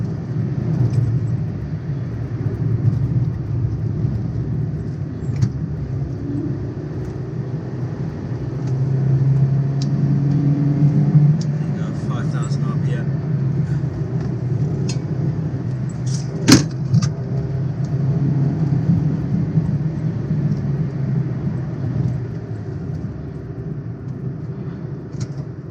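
Toyota Yaris and Porsche Boxster passing through a tunnel with the driver braking, a steady loud low road and engine rumble filling the space throughout, with a brief sharp knock midway and no talk.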